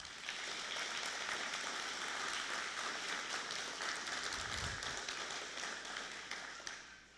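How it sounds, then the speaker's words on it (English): Graduation audience at a peace officer academy ceremony applauding lead instructor Clay Fuller, a broad sustained wash of many hands clapping that holds steady and tapers slightly at the end. "Let's give him a round of applause."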